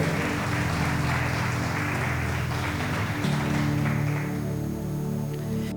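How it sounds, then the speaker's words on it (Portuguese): A church congregation applauds during a service, a broad, even wash of clapping over a sustained low musical drone, continuous and moderately loud throughout. "agora dê mais um aplauso ao Senhor"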